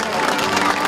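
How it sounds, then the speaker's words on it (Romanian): A crowd applauds Romanian mountain troops at a torch parade in Târgu Ocna, a steady, loud wash of clapping and crowd noise throughout. "Vă rog să-i aplaudăm pe vânătorii de munte."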